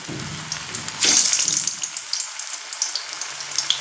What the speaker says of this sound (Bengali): এই যে কোপ্তাগুলো করে রেখেছি, কোপ্তাগুলো ভেজে নেব।